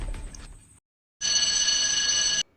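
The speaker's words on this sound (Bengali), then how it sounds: "রিয়াজকে ফোন করলাম" A telephone rings during a call with a steady electronic tone lasting about a second, preceded by a brief burst of noise and a moment of silence.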